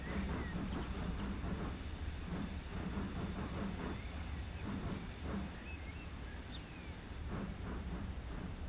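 A train rolls steadily through a railway video game set in Yorkshire, a continuous low rumble with faint clatter and a couple of short high squeals, with no voices.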